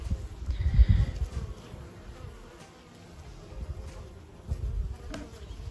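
Honeybees fly out of a newly installed hive in a vegetable garden, a close, continuous low buzzing that swells and fades as individual bees pass near.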